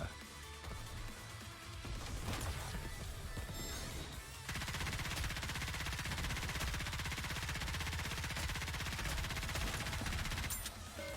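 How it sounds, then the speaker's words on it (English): Dense, continuous machine gun fire rattles on in loud sustained bursts, with crashing impacts and no pauses, growing even heavier partway through. "Decimate your enemies with a barrage of gunfire"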